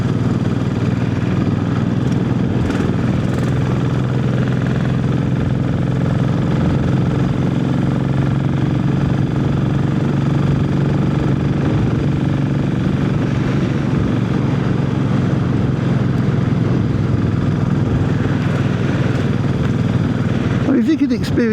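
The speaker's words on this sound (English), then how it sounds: "you can hear the motorbike and everything. That's the engine" A Royal Enfield Classic 500 motorcycle engine drones steadily and loudly throughout, a continuous low rumble from riding, with a brief rustle at the very end.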